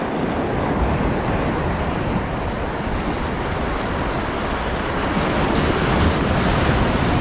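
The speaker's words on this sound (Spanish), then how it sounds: "Ahí vienen muchas olas" Ocean surf surges against a stone jetty in a fishing spot, a loud, continuous roar of breaking water mixed with gusty wind buffeting the microphone, no voices heard.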